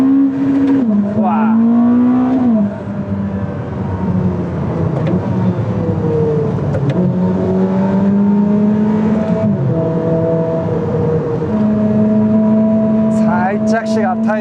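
A 1000-horsepower Ferrari SF90 Stradale hybrid accelerates hard in race mode, its loud engine note climbing steadily and dropping at each gearshift, droning near and continuous, with a brief exclamation from inside the car.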